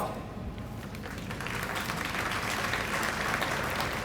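Steady, dense applause from a large crowd honouring award winners at a cadet academy ceremony, swelling slightly and holding strong throughout.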